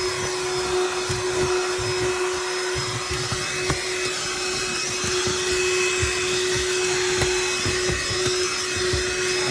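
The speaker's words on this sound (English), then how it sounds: "And then trying to vacuum up with this," A BLACK+DECKER dustbuster AdvancedClean+ cordless handheld pet vacuum runs steadily with a constant whining motor hum, close and continuous, with some faint knocks and rustles from debris being picked up inside a car.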